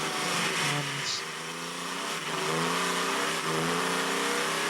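Le Mans race car engine revving and short shifting at Zhuhai, a loud sustained mechanical drone with rising gear pitches and brief dips between shifts, heard under a commentator's voice.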